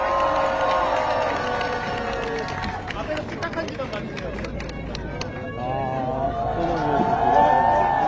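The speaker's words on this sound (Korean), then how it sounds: "큰 박수 한번 주세요." Outdoor election campaign rally crowd in Dongtan, South Korea, cheering and clapping loudly beneath an amplified speaker's voice, the crowd noise swelling toward the end.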